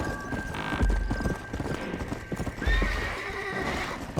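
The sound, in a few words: horse hooves and neighing in video game Red Dead Redemption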